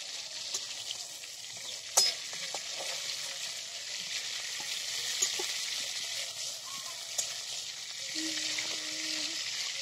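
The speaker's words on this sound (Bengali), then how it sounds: "একটু চিংড়ি মাছ হালকা করে ভাজলে নরম হয়" Prawns sizzle steadily in hot oil in a pan for a Bengali village prawn curry, a dense, even frying hiss with occasional stirring clinks and scrapes close by, and faint voices in the background.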